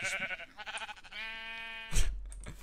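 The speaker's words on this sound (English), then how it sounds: "Freaking hate sheep in this game. They always talk shit to me." A sheep in Minecraft bleats several times in short wavering cries, one long drawn-out bleat in the middle, close and clear, followed by a brief thump, with no talk.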